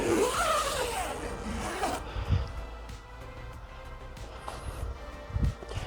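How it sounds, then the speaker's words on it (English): A zipper on a steam closet garment bag is pulled closed in one quick, close rasp, followed by a few soft rustles and bumps. "Zip it up."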